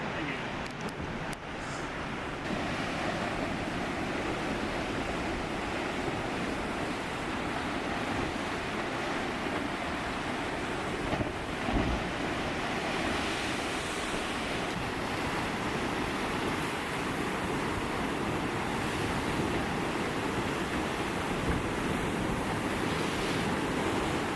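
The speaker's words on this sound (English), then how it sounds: "Look at these waves." Continuous roar of surf with heavy ocean waves breaking on rocks nearby, steady wash of water and wind throughout, with a few faint voices in the background.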